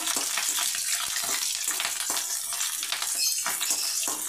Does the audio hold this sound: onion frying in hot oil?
yes